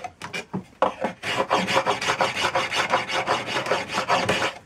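Hand scraper working a round wooden chair spindle for a Sussex chair, producing steady repeated rasping strokes close up, with a few sharper scrapes at the start and no talk.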